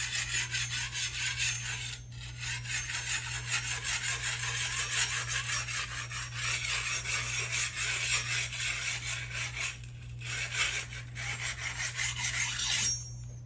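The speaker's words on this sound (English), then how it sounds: "I'm gonna use the coarse side first. In a clockwise rotation. I'm just gonna pass it along the blade," A knife blade being stroked across the coarse side of a sharpener in a clockwise rotation, giving a steady, close raspy filing that runs almost nonstop, with brief pauses around two and ten seconds and no talking.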